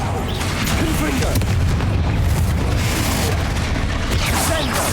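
Confringo spell blasts in Hogwarts Legacy, a dense run of booming bursts and crackles that fills the whole stretch, loud and close with a voice faintly under it.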